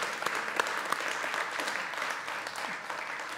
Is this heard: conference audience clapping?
yes